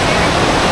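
A clear river rushes steadily below a hanging bridge in a forest, a loud, close, continuous wash of water with no pauses.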